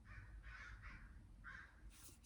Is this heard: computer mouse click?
no